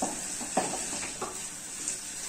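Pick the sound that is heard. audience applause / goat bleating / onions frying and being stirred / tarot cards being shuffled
onions frying and being stirred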